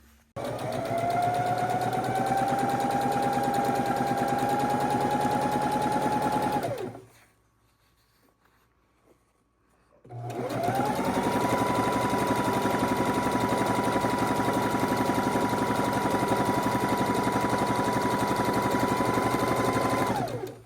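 Sewing machine running a long stitching pass through Christmas quilt fabric with gold accents, a loud steady rapid chatter that stops for a few seconds of near silence, then starts again and runs to the end.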